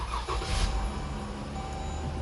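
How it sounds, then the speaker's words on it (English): A Jeep engine turns over and settles into a steady idle, close by, with a constant low rumble and no voices. "you got to get the car running"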